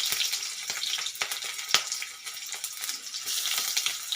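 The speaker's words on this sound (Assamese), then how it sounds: "এতিয়া আমাৰ এইখিনি ভাজা হৈ গ'ল, পিঁয়াজ, নহৰু, জলকীয়াহে।" Onion, garlic and green chillies frying in hot oil with black cumin seeds, a steady bright sizzle with scattered crackles and pops close up, no talking.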